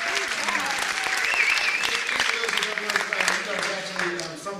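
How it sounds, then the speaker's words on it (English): Loud, sustained audience applause at a film event for a filmmaking community, dense clapping throughout with cheering voices mixed in. "you guys should give yourself a round of applause"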